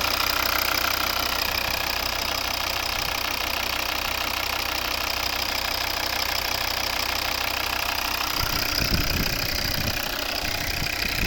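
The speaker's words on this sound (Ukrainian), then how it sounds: "Ось робота двигуна." A 2012 Volvo V60 2.0 D3 diesel with automatic gearbox idles steadily with a low, even clatter, and a louder rumble or handling noise near the end.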